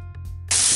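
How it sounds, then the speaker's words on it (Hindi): Two medium onions, finely chopped, hit hot oil in a pan and burst into a loud, steady sizzling hiss after a brief quiet moment. "तुरंत 2 मीडियम साइज के प्याज मैंने बारीक काटे थे ये इसमें डाल देंगे और मिक्स करना है इसको अच्छे से।"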